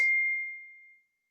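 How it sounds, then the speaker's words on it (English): A Mac computer plays a single bright notification chime, a clean tone that rings out and fades smoothly over about a second. "I don't have notifications off there. I bet you guys can hear that, right?"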